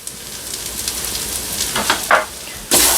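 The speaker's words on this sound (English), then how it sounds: "Give that a stir" Vegan aloo gobi curry with mango habanero and salt sizzles steadily in a Ninja Foodi, while a few close scraping stirs rise near the end.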